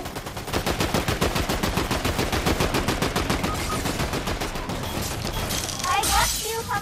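Video game gunfire with rapid, continuous automatic shots rattling steadily throughout, with a shattering burst near the end; players talk over the shooting.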